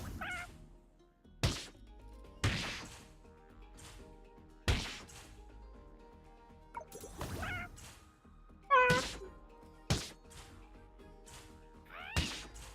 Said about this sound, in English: Why do the chickens sound like cat?